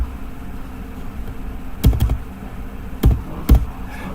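Typing on a computer keyboard in Microsoft Word, a few close, sharp key taps with a short cluster near the middle and two more spaced strokes after it, over quiet room noise.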